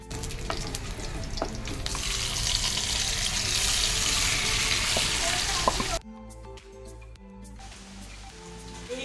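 Kadai chicken fries in a pan with a loud, continuous sizzle and stirring for several seconds, then it drops away to quieter kitchen sounds with faint water from a tap.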